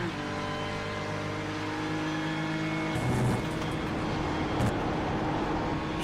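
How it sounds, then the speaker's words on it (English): A race car engine at the Spa 24 Hours endurance race drones with a steady high pitch, then drops sharply as the driver lifts off the throttle into La Source corner, with the engine heard from a distance. "just been listening to the engine of Sebastian Job into La Source, a little bit of a lift."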